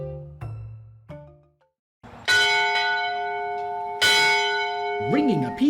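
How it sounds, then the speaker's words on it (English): The historic Mather School bell in Beaufort County is struck twice, each stroke ringing out loud and resonant with a long sustained hum, following a few shorter opening sounds. "Ringing a piece of Beaufort County history, the historic Mather School bell could be heard"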